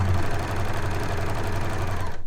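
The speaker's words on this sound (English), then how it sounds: "your overlocker will cut and finish the edges all in one go" Overlocker serger cutting and finishing fabric edges, a loud, fast, even chattering hum with a rapid pulsing rhythm that runs steadily and then cuts off abruptly at the end.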